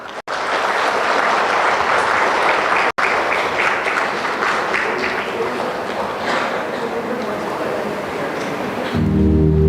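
An audience at the GIBS Business School HR Conclave 2023 in Bangalore gives a round of applause: dense, steady clapping that fills the room for about nine seconds, then stops abruptly.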